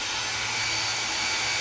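Xiaomi Mijia H500 water-ion hair dryer blowing steadily up close, a loud, even whooshing roar with a low motor hum and no talking.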